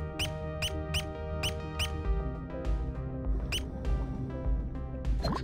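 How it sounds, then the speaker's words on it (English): Cute rodent-like squeaks from the underwater game Dave the Diver, a quick series of sharp, bright chirps early on and a few more later, over steady game music. "I love that squeaky sound"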